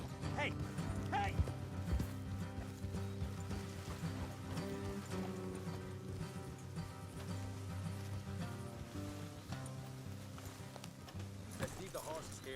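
Horses ridden along a trail in Red Dead Redemption 2, hooves clip-clopping in a steady rhythm beneath game music and a quiet background bed, with nothing else prominent.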